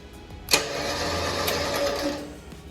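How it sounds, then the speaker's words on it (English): A Jeep TJ's 9500 winch whirs under power after a sharp initial clunk, a steady mid-pitched motor drone holding for a few seconds, fairly close with no talking. "Okay, so winch is hooked up. Got this power. Let's give it a try."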